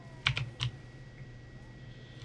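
Mechanical keyboard keys clicking in a few sharp, close taps near the start and once more at the end, over a steady low hum, with no talking.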